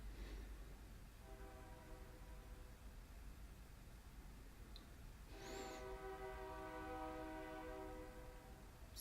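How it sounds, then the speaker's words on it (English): Train horn sounding near a hotel in Ballinger, Texas: two long, steady horn blasts, the second louder and fuller, over a constant hiss of background noise. "It is a stupid train."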